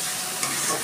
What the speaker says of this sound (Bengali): আমি ডালটাও একটু কষিয়ে নিচ্ছি।